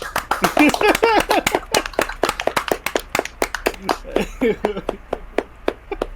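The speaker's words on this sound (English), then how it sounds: "let's give it a round of applause for those 4 recent Toho films." Sharp hand claps from a small group pop out in quick, uneven bursts, running alongside animated talking and laughter from the hosts of a monster-movie discussion show.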